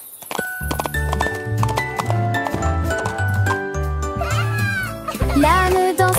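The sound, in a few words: donkey hooves clip-clopping on village street, cartoon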